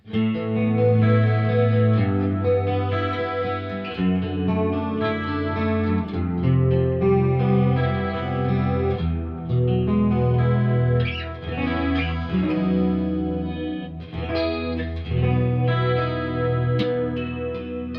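Electric guitar strummed through both magnetic and piezo pickups together, sustained chords bright and full, with a shimmering chorus-like effect; steady and continuous with no talking.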